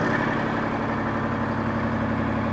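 A 1983 grain truck engine idles steadily with a low, even rumble and faint vibration, running alone throughout with no change in speed.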